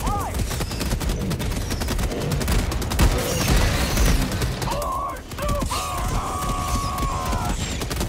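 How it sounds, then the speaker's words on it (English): Dense, rapid bursts of gunfire, rockets and explosions crackle throughout, a chaotic barrage of Helldivers 2 combat with a steady electronic tone entering near the end. "Oh my god, there's so many explosions!"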